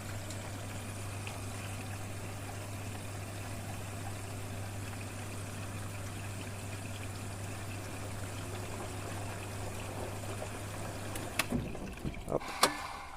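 A front-loading washing machine on a quick 40° colour cycle, door open, fills with water in a soft continuous trickle over a low steady hum, ending with a few clunks and knocks.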